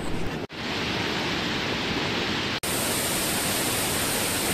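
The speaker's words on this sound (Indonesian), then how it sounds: "Karena hujannya berlangsung cukup lama" Heavy rain pours down at a waterfall campsite, a loud, dense and steady broadband wash close by, with two brief dropouts breaking the constant roar.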